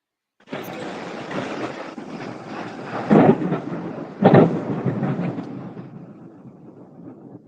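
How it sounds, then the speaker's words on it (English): Thunder rolls and rumbles through a warehouse for several seconds, with two louder cracks partway through, heard without any talk over it. "Hey, it's thundering."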